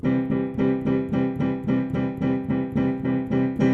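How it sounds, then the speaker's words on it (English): A piano chord strikes over and over in a steady, even rhythm, about a dozen bright repeated hits, clear and close with no voices. "If I do it on the piano, it sounds like this."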